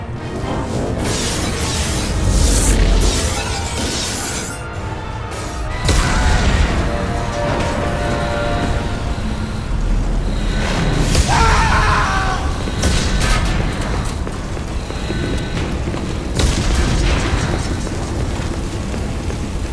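Explosions rock a starship under attack in Mass Effect 2: loud, heavy booms and crashing blasts recur across the whole stretch over a dense, rumbling din of damage.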